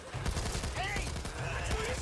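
Gunfire in the co-op zombie shooter Back 4 Blood: a rapid, loud burst of shots cracking over each other, with a player talking during the firing.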